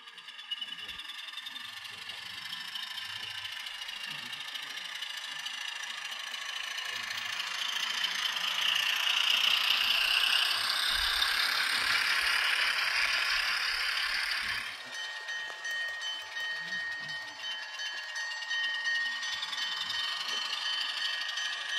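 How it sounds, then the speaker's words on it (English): A model diesel locomotive runs with an electronic sound unit, giving a steady engine drone that swells louder midway, then drops back to a lower idle. "That's a great sounding diesel locomotive"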